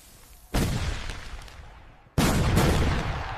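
Fireworks exploding in two heavy booming bursts, each a sudden loud blast followed by a long crackling, rumbling decay, with no voices.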